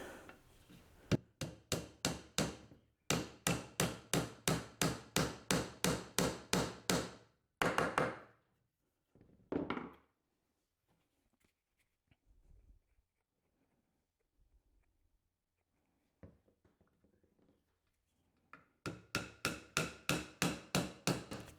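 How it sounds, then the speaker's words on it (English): Rapid series of sharp hammer taps drives glued wooden dowels into a dovetail drawer, coming in dense bursts separated by quiet pauses with a few softer knocks. "as I'm hammering these down with the glue around the edges of the dowel"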